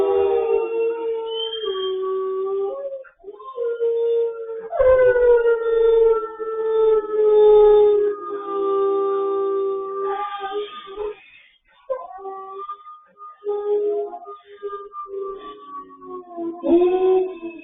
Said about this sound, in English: some howling footage that Denali did with the exhibit pack